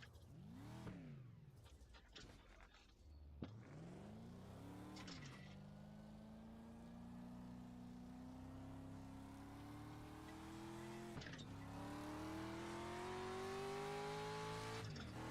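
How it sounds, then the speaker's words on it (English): A street stock race car in the iRacing sim, its engine firing up and then revving steadily, pitch climbing through long sustained pulls, loud and close with no talk. "We'll get the car fired up here."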